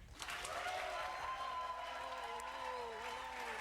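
A live audience applauds and cheers for Andrew Yang at a CNN town hall with Democratic and independent primary voters, a dense sustained roar of clapping filling the hall, with some crowd voices blending in throughout.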